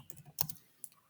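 A few quick, light clicks of typing on a computer keyboard while entering router configuration commands, close and quiet with nothing else around.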